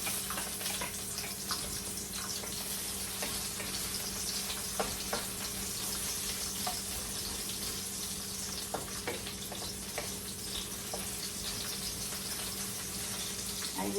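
Onion sautés in a pan as a steady, moderately loud hiss and sizzle, broken by faint scattered clicks and stirring taps, with no voices over it.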